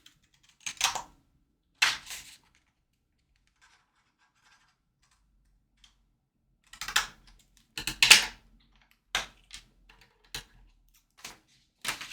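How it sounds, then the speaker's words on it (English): Scissors or a blade cutting a notch into a folded paper graduation gift bag, heard as a few short crisp snips and scrapes in two clusters separated by a quiet pause, close and fairly faint. "I'm going to cut out this notch."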